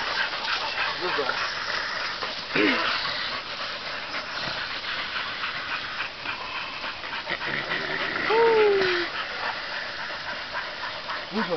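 Hunting dogs pant and whimper close by while someone talks to them, with an occasional short yelp rising above the panting and outdoor background.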